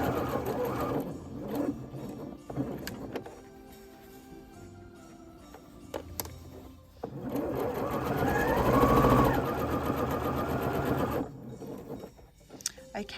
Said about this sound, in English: I'm just sewing around the last square part of the tab.